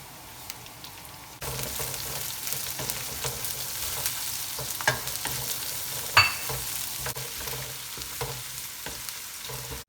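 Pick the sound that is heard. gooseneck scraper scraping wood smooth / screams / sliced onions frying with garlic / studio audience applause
sliced onions frying with garlic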